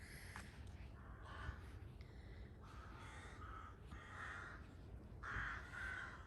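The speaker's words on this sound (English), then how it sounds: "Apologies for the crows." Several harsh crow caws in an irregular series, moderately close, with quiet outdoor garden ambience between calls in September.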